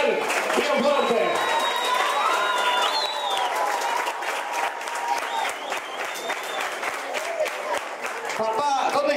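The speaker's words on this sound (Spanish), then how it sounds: "Coronamos con un aplauso" Loud, sustained applause with cheering from a crowd of family and friends at an eighteenth birthday celebration, steady clapping throughout with a few voices rising above it.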